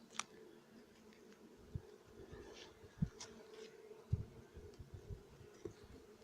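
Honeybees in a hive in a pre-swarming state give off a faint, steady buzzing hum, with a few brief louder knocks and rustles over it.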